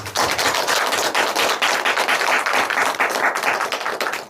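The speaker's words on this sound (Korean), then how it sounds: "하나님께 우리 영광의 박수" A Korean Sunday morning worship congregation gives a clap offering of glory to God: loud, rapid, crackling applause that runs continuously from start to finish.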